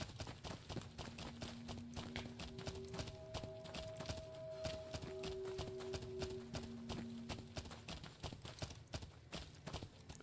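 Heavy, rapid hoof-like clip-clop footsteps of the companion Rex, a cyborg dog in Fallout: New Vegas, loud and close throughout, with faint game music tones underneath.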